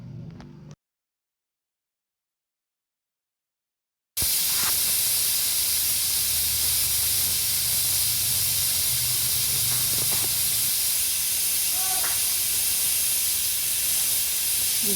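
A pressure cooker cooking mushroom biryani releases steam: a brief sound, then silence, then a loud, steady hiss that runs on for about ten seconds.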